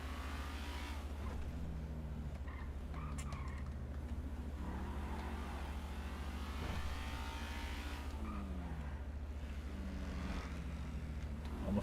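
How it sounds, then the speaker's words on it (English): A flashy car drives past in a GTA roleplay game, its engine droning steadily with rising and falling revs and some tire noise throughout, moderately quiet and with no talking. "Almost got hit by another flashy car, dude."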